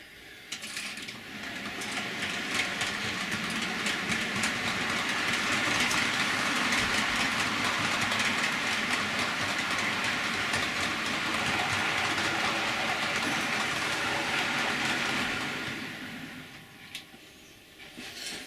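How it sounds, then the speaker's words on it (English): A brand-new OO gauge Warship Class 43 model locomotive runs along a model railway main line, a steady whirring, clicking track rattle that swells as it passes close and fades away near the end. "2 locomotives running on the main line. First one of which will be coming towards you any minute now"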